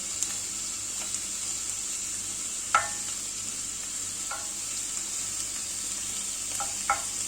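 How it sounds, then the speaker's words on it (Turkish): Chanterelle mushrooms (Cantharellus tubaeformis/lutescens) sauté in a pan over medium heat, a steady soft sizzle running throughout with a few sharp spatula scrapes and clicks standing out near the end. "İyice kavuracağım."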